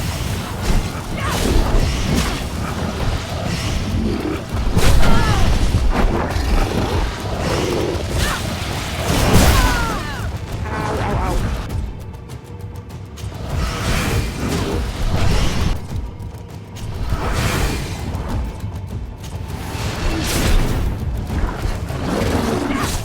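Thrown bombs explode repeatedly in the Greedfall combat game, a string of heavy crashes and booms mixed with whooshes and clashing battle noise, loud and close throughout.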